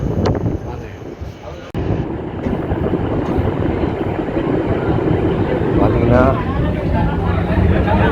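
A DEMU passenger train rumbles loudly nearby at a station with a broad, steady roar and wind buffeting, while a voice talks over it.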